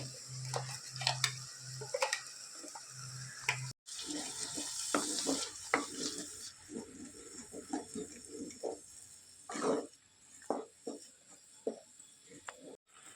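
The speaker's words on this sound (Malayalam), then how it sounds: "നല്ല പച്ചമണം മാറുന്നത് വരെ വഴറ്റി കൊടുക്കാം" A spatula scrapes and clatters in a pan as onion and spice paste sizzles, with steady stirring and frequent short knocks against the metal.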